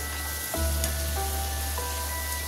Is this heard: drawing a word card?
no